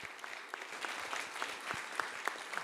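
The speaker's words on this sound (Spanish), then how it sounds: "Fuerte el aplauso." Audience applause at a live forum anniversary event, a short steady burst of many hands clapping at moderate distance, rather faint, with no talk over it.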